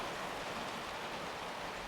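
Steady outdoor downpour on a day of intermittent pouring rain and distant thunder, a dense, even hiss of falling water that fills the whole stretch without a break, with no voices.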